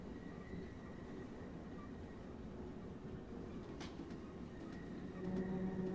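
Train driving in Train Simulator 2021, a steady low rumble of the moving train with faint rail clicks and a slight swell near the end, heard alone.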